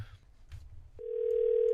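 A steady telephone dial tone starts abruptly after a brief low rumble and a soft click while a call is being placed, then holds loud and constant to the end with no talking.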